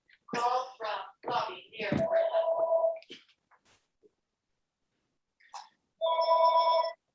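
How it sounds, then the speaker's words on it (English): A telephone rings clearly twice during a residents' council meeting, a steady electronic tone each time, following close speech and a quiet pause. "That's my greatest dread, is the phone ringing when it's my turn to talk."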